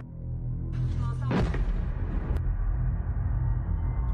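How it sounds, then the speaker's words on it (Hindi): Heavy explosion blasts in Kyiv during the Russia-Ukraine war: a deep rumbling boom swells around the midpoint with a sharp crack after it, then a sustained low roar carries on to the end. "कीव में जबरदस्त धमाके।"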